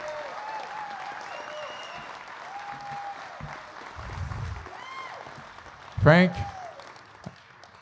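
Audience applause at an annual member meeting, a steady, fairly loud wash of clapping that carries throughout while someone speaks over it, with a brief louder burst near the end.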